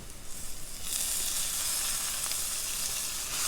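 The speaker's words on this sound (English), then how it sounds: "Next, I'm going to add my tomatoes." Fresh tomatoes tip into a hot pan of browned onions and garlic for a veggie chilli, and the steady frying sizzle jumps up loud and bright, then holds as a broad continuous hiss, close by with no talking.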